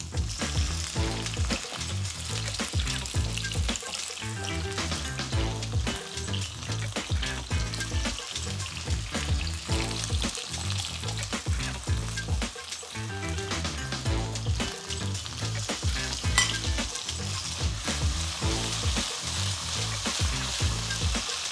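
Vegan manti sizzling loudly in a pan with sautéed dried tomatoes while being stirred, a constant frying hiss with regular scraping strokes of the spoon throughout, close and with no voices.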